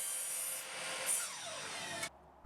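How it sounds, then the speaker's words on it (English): A miter saw cuts through 2x3 timber for a shepherd's hut end wall, a loud continuous whining, rasping cut that swells and then drops sharply as the blade finishes, with a brief quieter tail. "I can cut the pieces on the miter saw"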